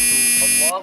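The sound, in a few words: alarm sound from the Kesan app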